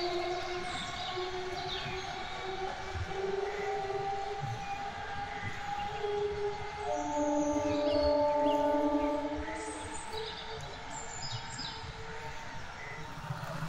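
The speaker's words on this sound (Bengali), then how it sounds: "আর দেখুন দুধারে ঝিল, তার মাঝখান থেকে ট্রেনটি চলে যাচ্ছে" A train rolls past between lakes on either side near Beliaghata Road station, heard at a moderate distance as a continuous rumble with sustained horn-like tones swelling midway, then easing off.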